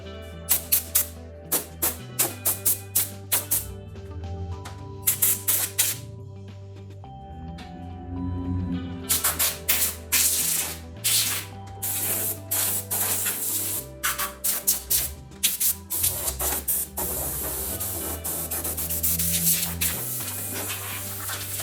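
Sanding scale and rust off the body of an RX7 car in a garage, a loud repeated abrasive rasping in bursts with short pauses, close and without talk.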